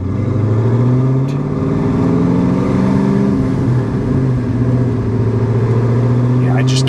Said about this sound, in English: I just can't say enough about how well this car drives